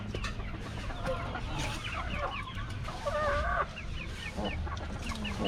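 Black Tanaka hen clucking on a free-range chicken farm, with repeated clucks and short calls from several fowl over steady outdoor background noise.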